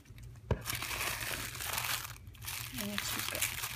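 Paper and ribbon crinkling and rustling as a handmade pocket letter is opened, close and soft, with a sharp snap early on and continuous crumpling throughout.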